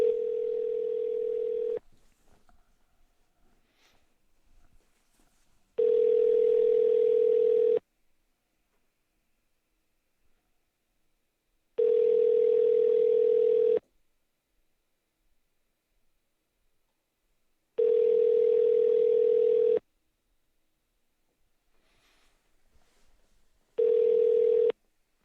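Telephone line signal heard while calling a listener on a live business call-in show: a steady tone sounds in long regular bursts of about two seconds separated by roughly four seconds of near silence, repeating five times, clear and alone without voices.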